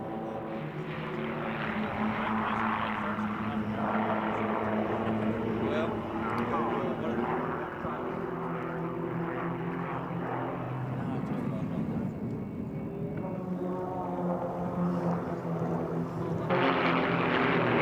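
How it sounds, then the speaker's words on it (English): Four small Extra 300 aerobatic propeller planes flown by the Royal Jordanian Falcons drone overhead at the 1997 Mildenhall Air Fete. The engines hum steadily and at a distance under continuous announcer commentary. "these 4 tiny extra 300s in the very capable hands of the Royal Jordanian Falcons"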